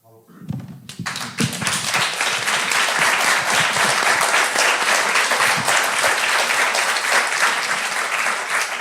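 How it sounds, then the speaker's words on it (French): A crowd at a French ecology political rally breaks into loud, sustained applause that swells within the first second and stays dense and even throughout. "j'applaudissais votre victoire justement d'avoir réussi à faire avancer du coup sur la réglementation"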